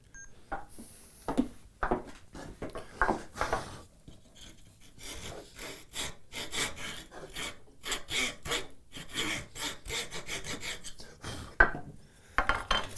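Hand tools chopping and paring open a mortise in wood at a workbench: repeated sharp strikes and scraping, rasping strokes in an uneven rhythm, close and fairly loud, with no talking.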